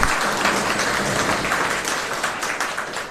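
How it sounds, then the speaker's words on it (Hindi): An audience at a felicitation ceremony for selected railway exam students claps together in a steady, dense wash of applause that fades slightly toward the end, with no voices over it. "एक बार आप सब अपने लिए ही ताली बजाओ"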